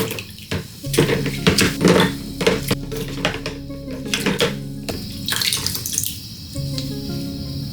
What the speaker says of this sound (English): Once everything's clean, rinse the parts with clean water.